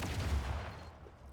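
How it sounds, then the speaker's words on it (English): Mine explosion in The Outer Worlds 2: a single booming blast with a low rumble that fades over about a second, with no talk over it. "And that was a mine."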